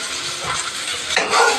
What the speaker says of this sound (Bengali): এই যে মাছ ভাজা করছি, আর এইগুলো ভাজা হয়ে গেছে।